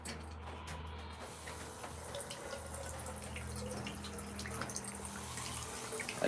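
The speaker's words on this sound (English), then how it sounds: "trying to grab the water from the hose." Water running from a hose outdoors, a faint continuous trickle with light dripping and splashing over low background hum.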